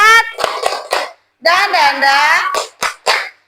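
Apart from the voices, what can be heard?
class doing a rhythmic spirit clap, tepuk semangat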